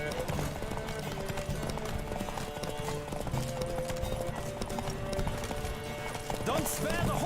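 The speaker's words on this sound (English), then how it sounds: "Don't spare the horse!" Hoofbeats of a horse galloping in The Witcher 3 drum steadily throughout, a rapid clip-clop over game music and ambience, with a brief whinny near the end while a voice talks over it.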